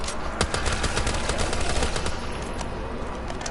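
Rapid, dense M14 rifle fire in Black Ops 3 zombies on the Ascension map, loud and close, with sharp shots crackling continuously for several seconds and no talk.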